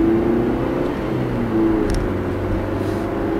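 Cars pass at a traffic circle, engines humming and rising as vehicles approach and move through, heard from inside a waiting car, with a steady low rumble throughout and no talking.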